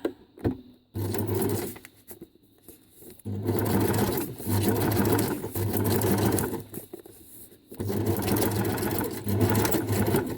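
A sewing machine stitching paper runs in steady whirring bursts, stopping and starting several times, close by with no voices.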